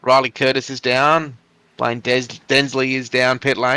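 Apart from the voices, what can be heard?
No distinct noise like a dog, phone or traffic.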